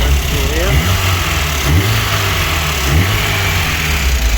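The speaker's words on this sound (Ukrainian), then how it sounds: "моторчик наш еще холодний, прогревается" A VAZ 2109 car engine idling and revving as it warms up from cold, loud and close, with a person talking over it.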